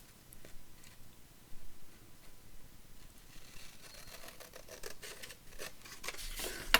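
Scissors snipping paper while making an accordion book, faint and sparse at first, then a run of quicker, closer cuts toward the end, with no talking.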